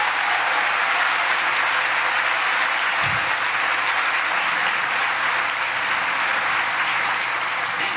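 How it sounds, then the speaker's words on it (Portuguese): Loud, sustained applause from a church congregation clapping for Jesus, a dense wash of hands filling the room steadily from start to finish with no voices rising above it. "pode aplaudir a ele, irmão, mas vai com força."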